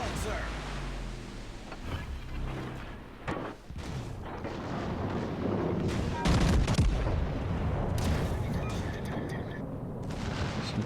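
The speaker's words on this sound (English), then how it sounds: "Secondaries kick in." Secondary guns of a warship firing in World of Warships, a series of heavy booms and crackling blasts spread through the clip over a rumbling battle din, with a voice talking over it.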